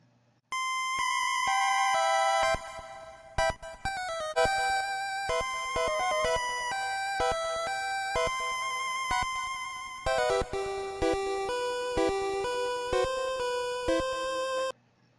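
Eerie Game Boy chiptune from Pokémon's Pokémon Tower, bright square-wave tones playing a looping, creepy tune, loud and clear, pausing briefly before the pattern resumes.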